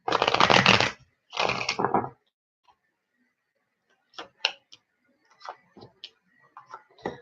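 Two bursts of tarot card shuffling, a riffle followed by a shorter one, then a run of soft scattered taps and ticks as cards are laid down.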